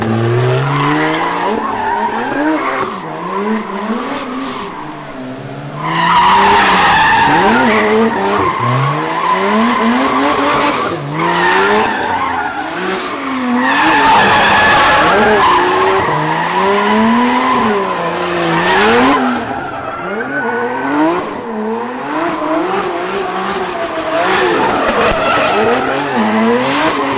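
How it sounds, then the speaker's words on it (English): Nissan S15 with a 2JZ engine drifting, tires squealing and skidding under a loud, wavering engine that rises and falls with throttle changes, close and continuous throughout. "I'm gonna try to slide and see how it feels, but it sounds so good."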